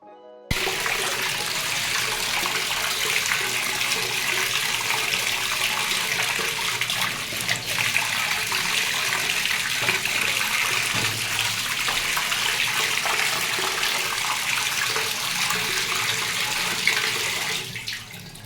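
Tap water gushes as a household supply arrives, a loud, steady hissing rush that starts abruptly and runs almost unbroken before easing near the end; no one speaks.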